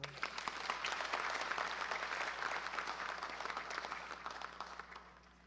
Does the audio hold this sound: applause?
yes